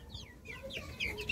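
A small backyard flock of chickens pecks at broken maize, giving soft, close clucks and short, high chirps in quick succession, with no talk over them.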